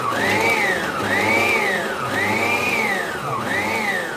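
A motorized chopper whirs loudly while chopping onion finely, its pitch rising and falling in repeated surges as it cuts, with no talking.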